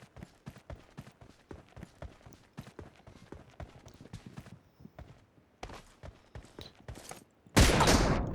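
Gunfire from the video game PUBG Mobile during a sniper team deathmatch crackles as a rapid string of sharp shots and footstep-like taps, fairly quiet, ending in a sudden loud burst.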